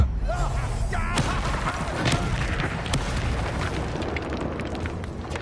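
In the video game Hogwarts Legacy, the Incendio fire spell goes off as a loud, dense burst of roaring whoosh and crackle, held for several seconds under the game's music and effects, with no voices.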